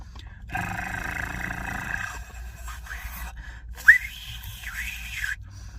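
Breathy whistled tones, made without fingers, come and go with rushing airflow, a thin pitch rising and wavering through a few short attempts, close to the microphone.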